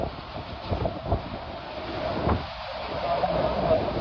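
Heavy night wind buffets the microphone in gusty, rumbling bursts that swell and ease over a few seconds, with no voices.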